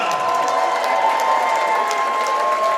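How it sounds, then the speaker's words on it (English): A large crowd at a fundraising event claps and cheers without pause: a loud, dense wall of applause and voices that holds steady throughout. "Keep cheering."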